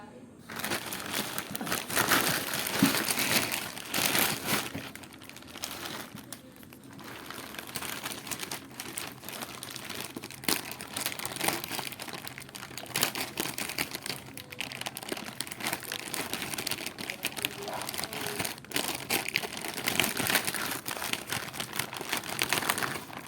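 Plastic delivery packaging crinkling and crackling as it is torn open in an unboxing, a steady stream of close, busy rustles and crackles running throughout at moderate volume.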